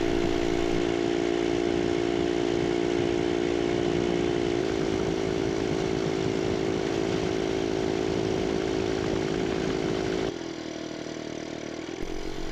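A pre-1919 veteran motorcycle engine runs steadily at a loud, even mid-pitched drone, then its note drops and shifts near the end as it pulls away.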